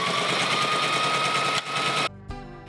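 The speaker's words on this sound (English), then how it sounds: "Put your foot down before you start sewing." A sewing machine stitching fabric for a Mariza garden party top, a fast, steady mechanical whir running close and loud for about two seconds, then stopping abruptly, with a brief clunk after.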